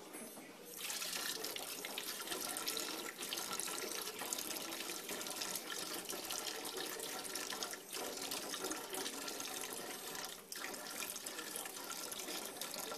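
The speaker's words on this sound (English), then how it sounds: "go ahead and add some more water" Tap water pours steadily into a pot for smoked rabbit and sausage gumbo, a soft, continuous splashing flow that starts abruptly and runs evenly without talk.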